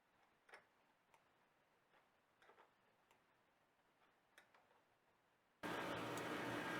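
A wrench turns a threaded insert nut tight, giving a series of faint, irregular ratcheting clicks over quiet room tone before a sudden loud, broad burst of noise cuts in at the end.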